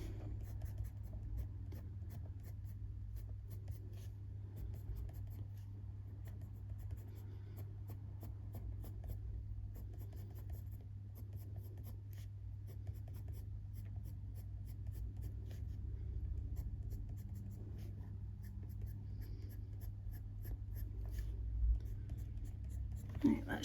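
Polychromos colored pencils scratch softly and steadily across paper while drawing fur, a continuous dry rubbing of close strokes under a low, constant background hum.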